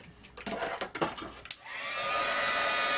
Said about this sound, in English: Give that a quick hit with the heat tool.